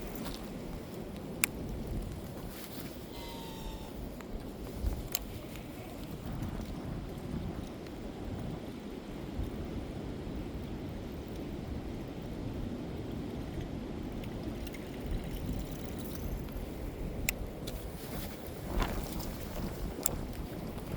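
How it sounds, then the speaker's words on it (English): Strong wind blowing across open water from a boat, a constant low roaring rush with buffeting microphone noise and occasional sharp knocks, steady and loud for the whole stretch. "Ooh, boy, wind is kicking."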